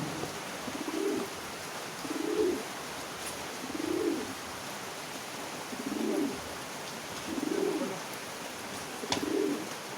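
Pigeons coo in six separate low, soft bursts spaced about every one to one and a half seconds, close by over a steady background hiss that may be light rain.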